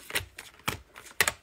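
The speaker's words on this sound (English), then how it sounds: "finish shuffling these up" A Zodiac Tarot card deck is shuffled by hand, three quick riffling bursts, close and fairly soft, with short pauses between them.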